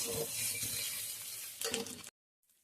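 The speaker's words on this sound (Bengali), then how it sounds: "এবার এটাকেও আমরা ভালো করে ভেজে নিচ্ছি" Garlic paste frying with browned onions in a pan, a close sizzle with stirring scrapes and a louder burst of scraping near the end before the sound cuts off abruptly into silence.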